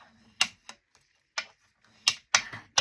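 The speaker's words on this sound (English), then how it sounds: "I do apologize for the glass banging" Several sharp clinks and taps of glass, irregularly spaced, close and fairly loud with quiet gaps between.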